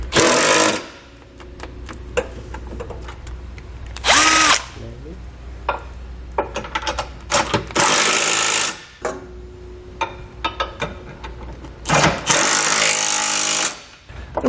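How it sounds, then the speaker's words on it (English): A power tool fitted with a 3/4 inch socket tightens flange nuts on a Curt trailer hitch on a 2019 Subaru Crosstrek. It gives several loud, close whirring bursts separated by quieter clicks and handling noises. "I'm going to come back with a 3/4 inch socket and tighten up all those flange nuts"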